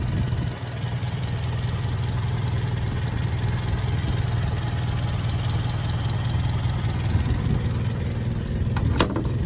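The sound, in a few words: Fiat 1100 E car engine idling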